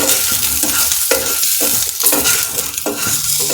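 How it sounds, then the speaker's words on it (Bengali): Pointed gourd frying in oil in a pan, a steady loud sizzle with repeated scraping and pressing strokes of a spatula against the pan, close and with no talking. "এটা একটু চাপা দিয়ে দিয়ে ভাজি, তাহলে তাড়াতাড়ি পটলটা ভাজা হয়ে যাবে।"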